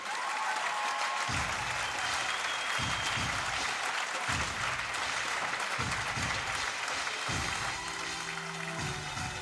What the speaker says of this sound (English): the fans still applauding